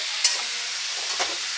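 Chalta and amra chutney frying in a pan gives a brief soft sizzle, with a couple of quick stirring scrapes over a steady hiss.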